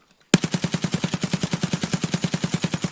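AMP gun firing in a BSG video game, a steady rapid automatic burst of evenly spaced shots starting suddenly after near silence and continuing loud and close without a break.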